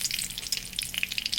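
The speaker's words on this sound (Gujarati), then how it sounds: "જીરું તતડે પછી તેમાં મીઠો લીમડો" Cumin seeds and curry leaves crackle and sizzle in hot oil, a dense run of sharp pops and spitting over a steady frying hiss, close and fairly loud throughout.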